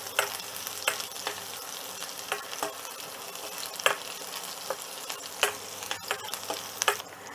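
Cashews, green chili and ginger crackle and sizzle in hot oil in a pan, a steady fry punctuated by sharp pops and occasional stirring scrapes, with no voices.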